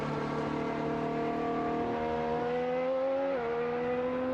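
A 2026 Formula 1 car runs on track during Bahrain pre-season testing, its high engine whine steady and droning, with pitch shifts as gears change, heard from a distance without pause.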